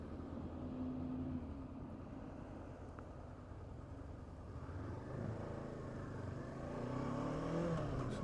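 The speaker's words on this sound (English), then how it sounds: "It's a nice little engine." A 2016 Honda CB500X parallel-twin engine hums steadily while riding, a low droning tone with gradual rises in pitch as revs climb, wind rush mixed in, continuous and fairly close.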